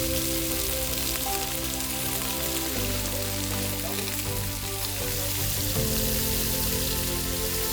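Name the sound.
lobsters frying in a pan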